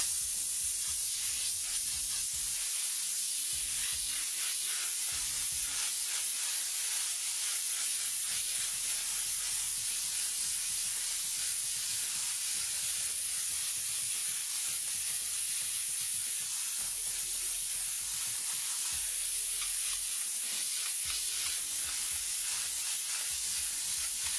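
An airbrush lays red oxide paint in a big spray around the outer edge of a flame layout, giving a continuous even hiss that holds steady throughout with no voices.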